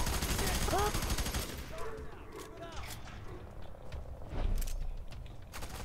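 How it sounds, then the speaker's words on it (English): Gunfire in the video game F.E.A.R. 3 co-op campaign opens with a loud, rapid burst, then thins to scattered, sharper shots over quieter game sounds. "somebody else is shooting on me."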